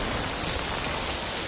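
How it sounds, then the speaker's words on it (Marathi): Rain falls in a steady, unbroken hiss with a constant even texture and no distinct drops or voices standing out. "पाऊस पडायला लागलाय."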